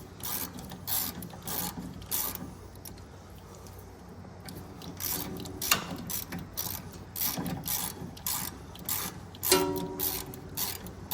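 A 16mm wrench loosening the nuts on Fiat 500 Pop front sway bar links, giving a run of quiet ratcheting clicks and metallic rattles in short bursts with brief pauses, close and faint, with no talking.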